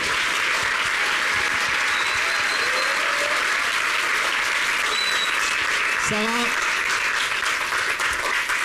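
An audience applauds a guest as she is introduced at a French science talk on genetic identification in forensics, sustained dense clapping filling the whole stretch, with a brief spoken name and some voices over it.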